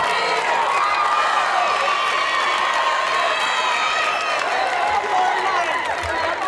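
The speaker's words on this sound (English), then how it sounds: "Let's give a big round of applause to all of our 2026 Callahan finalists." A crowd at a college ultimate championship cheers, shouts and claps for award finalists in a continuous, steady roar, with high voices and scattered whistles in the mix.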